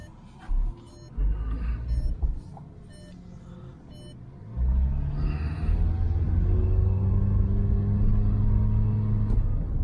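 A cheap used car bought at a dealer auction accelerates with its gearbox failing to change gear, the engine droning in a steady, rising low rumble that holds at high revs after a few short bursts, heard from inside the cabin.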